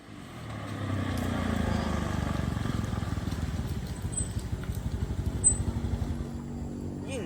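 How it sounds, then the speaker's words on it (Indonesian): A motorcycle approaches on a rural road, its engine a low, steady rumble with a rapid pulsing beat that swells gradually and stays moderately near, with faint background ambience. "Anjing, aya motor si Isa."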